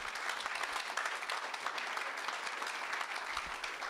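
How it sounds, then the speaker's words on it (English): Sustained audience applause at a high school Hall of Fame induction ceremony, greeting a longtime principal and booster being introduced; dense, steady clapping from a large crowd with no pauses. "Please give a big round of applause for a great principal"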